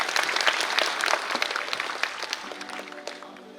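Audience applause at a National Mathematics Day celebration in Gyan Bhawan, Patna, as students receive certificates and laptops; steady dense clapping from a hall crowd that thins and fades toward the end, with a faint tonal hum emerging late.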